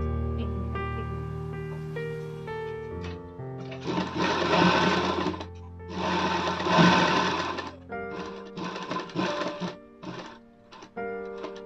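A sewing machine stitches a princess-cut blouse in several running bursts, loud and close, each lasting a second or two with short pauses between, ending in quicker stop-start runs.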